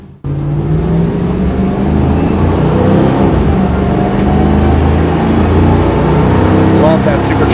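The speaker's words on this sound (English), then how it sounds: "Love that supercharged whine." A supercharged 5.4-litre V8 in a 2000 Ford SVT Lightning pickup with automatic transmission, pulling hard on a test drive, steady loud engine drone with rising whine, heard from inside the cab, a voice briefly underneath.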